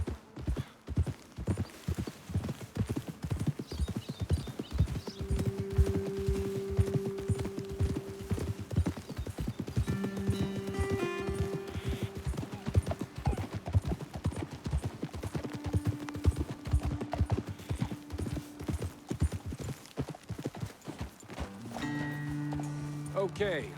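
Hooves clip-clop steadily on hard ground in the video game Red Dead Redemption II, horses walking along, with an occasional whinny and music-like tones in the background.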